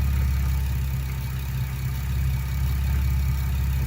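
Steady engine drone with low harmonic hum from a car whose power steering holds thick stop-leak fluid, running continuously and fairly loud with no talk.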